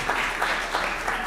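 An audience at an in-person municipal council meeting in Paterson, New Jersey, applauds with dense, steady clapping that fills the room throughout, with no voices over it.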